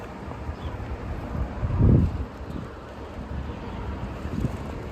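Gusty wind buffets the microphone at the Route 66 Midpoint, a low rumbling roar that swells into a strong gust near the middle and eases off again, with no talking.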